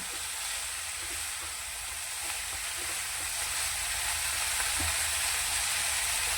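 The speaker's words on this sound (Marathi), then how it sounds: "तेलामध्ये होऊ द्यायची भाजी अशी पटकनच होते" Chiuar bhaji, a leafy summer vegetable, frying in hot oil in a pan, giving a steady, loud, close sizzle that holds unbroken throughout, with faint occasional stirring taps.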